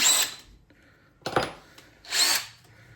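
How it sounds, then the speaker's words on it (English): A power drill with a tight, unoiled chuck whirs in two short bursts separated by pauses, with a brief scrape or knock between them, close and fairly loud. "This drill chuck needs oil. It's getting real tight."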